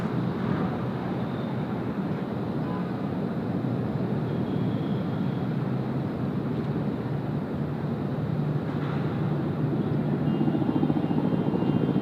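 A Qantas jet departs Sydney Airport, heard as a steady, fairly distant broadband engine roar that holds throughout and swells slightly toward the end.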